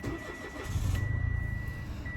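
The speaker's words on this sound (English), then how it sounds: "So now we're gonna start the car." A car engine with a JF015E CVT starts after a fluid fill. A short crank catches about a second in and settles into a steady, nearby idle rumble, with a thin, constant warning chime tone sounding throughout.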